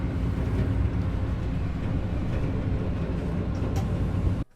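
A PKP first class passenger train rides along the rails, a steady loud rumble with rolling mechanical noise throughout, cutting off abruptly at the very end, no talk.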